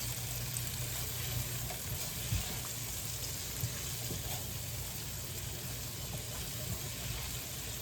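Minced garlic sautéing in a pan as a sweet and sour fish fillet is prepared: a steady, moderately quiet sizzle with faint crackles, continuous throughout with no talking.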